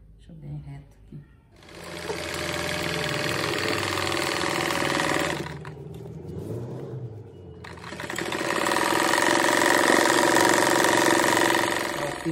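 A sewing machine stitches a patchwork rug made from fabric scraps. It whirs steadily and loudly in two long runs with a brief pause between them, and a voice is heard briefly in the gap.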